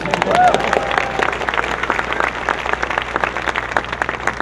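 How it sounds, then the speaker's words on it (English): A crowd at an awards ceremony claps loudly and continuously, dense applause with some cheering voices mixed in. "you can clap for my mom. Go ahead, give it up for Mom."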